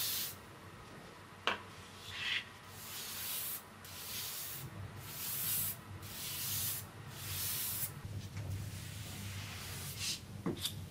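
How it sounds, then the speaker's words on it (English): A sponge applicator loaded with gator hide paint rubs across a tabletop being given a faux marble finish, giving soft broadband swishing strokes that rise and fall in repeated passes with brief clicks between, close and steady. "I go ahead and rub the sponge and gator hide onto the project."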